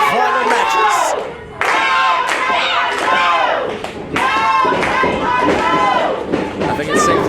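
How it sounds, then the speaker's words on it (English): A pro wrestling crowd at a Futures Championship tournament semifinal shouts and chants loudly in rhythmic waves, with heavy thuds and claps mixed in and voices rising over the din. "I think it's safe to say the crowd very firmly in the corner of Tavon Jordan"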